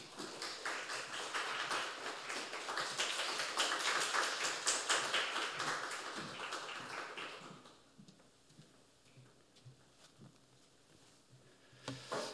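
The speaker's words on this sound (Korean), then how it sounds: "우리 강사님 나오실 때 우리 박수로 환영하고" Church congregation applauding to welcome a seminar speaker, a dense sustained round of many hands clapping that fades out after several seconds, followed by quieter room sounds and a few stray claps.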